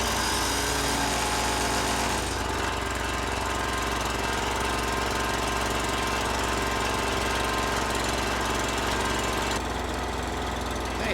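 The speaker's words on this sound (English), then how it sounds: "After checking the oil, I like to start the engine and let it warm up some." A chipper shredder's small gasoline engine runs loud and close, rising as it starts and then settling into a steady, buzzing idle as it warms up, with no other sound over it.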